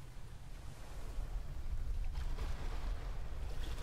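The Titanic striking the iceberg in the Roblox game: a low, continuous rumble of ship and water that swells into a louder grinding roar midway, with no voices.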